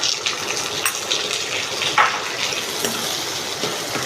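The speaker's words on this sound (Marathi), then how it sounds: "तो कांदाही छान परतला जातोय." Onion frying in a pan on an induction cooktop gives a steady, fairly loud hiss and crackle with small pops throughout, and no one talks over it.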